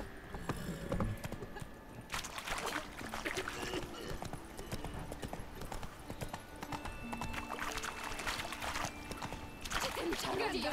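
Horse hooves clip-clop at a steady riding pace in The Witcher 3, set in the Oxenfurt and Novigrad lands, under continuous game music and ambience, with a brief whinny.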